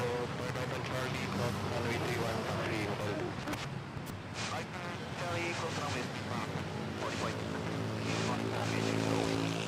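A United Airlines airliner taxis at Manila Airport with a continuous, steady engine drone and whine, while someone talks over it almost throughout.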